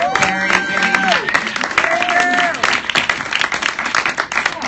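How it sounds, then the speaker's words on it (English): Audience at the Periscope Summit in New York City applauds a panel, loud clapping mixed with cheering and whistle-like tones, with voices rising over the crowd throughout. "please give them a round of applause"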